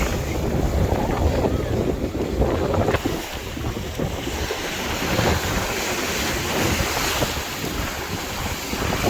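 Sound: strong wind

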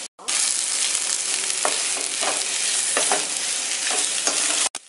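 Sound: stir-frying tapioca poriyal on a slow flame

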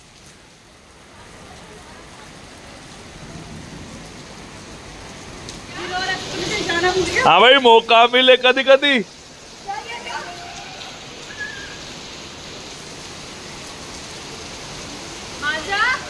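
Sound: rain during a scooter ride

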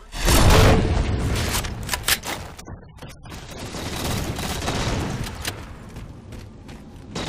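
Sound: shotgun and gunfire in Halo 4 video game match

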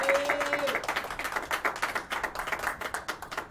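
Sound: audience applause

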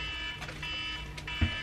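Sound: alarm going off

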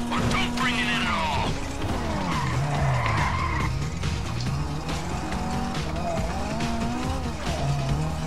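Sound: car skidding in video game GTA 5

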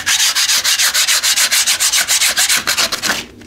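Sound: scraper stripping wallpaper off a wall

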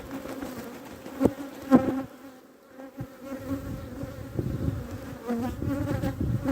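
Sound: honey bees buzzing in a full hive

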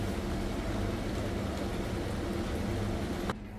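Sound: rain falling outside

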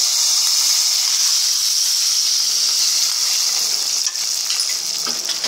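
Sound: curry leaves and dried chillies sautéing in oil for tempering

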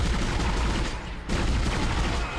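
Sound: gunfire in the video game Dead Space

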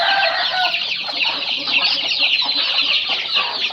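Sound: chickens clucking

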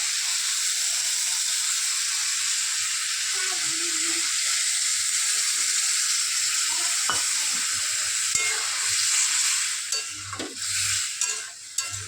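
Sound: sautéing curry with chili and mustard paste in a pan

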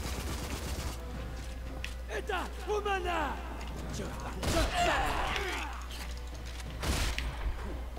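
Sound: gunshots in the video game RAGE

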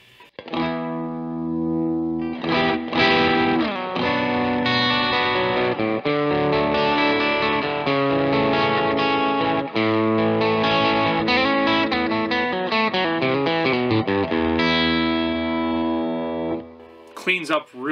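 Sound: electric guitar through Bohemia DIY distortion pedal

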